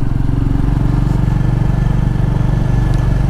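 A Royal Enfield Meteor 350 motorcycle rides along, its single-cylinder engine throbbing loud and close in an even, rapid pulse with no voices.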